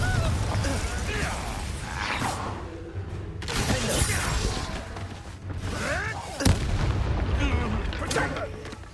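Fire-blast spells from the Hogwarts Legacy video game, with whooshing surges and a sharp burst around the middle, set against a steady game soundscape.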